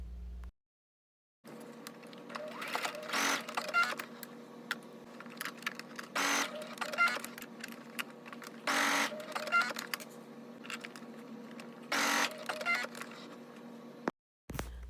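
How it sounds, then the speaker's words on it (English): A sewing machine baste-stitches the shoulder straps to the bodice of a wrap dress: a low, steady hum broken by several brief louder bursts, with a short silence at the start and the end. "you can go ahead and baste stitch the shoulder straps to the bodice"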